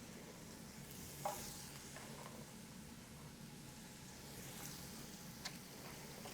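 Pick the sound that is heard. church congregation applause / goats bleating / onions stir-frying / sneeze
onions stir-frying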